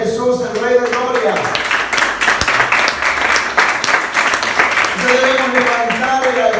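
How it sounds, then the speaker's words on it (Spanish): A congregation at a Spanish-language church worship service applauding Jesus: a dense wash of crowd clapping in the middle, with a voice speaking over the start and returning at the end. "¿Alguien puede dar un aplauso a Jesús, el Rey de Gloria?"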